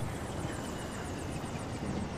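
A helicopter in the Far Cry 4 video game whirs nearby with a steady, loud rotor chop and engine roar that continues unbroken.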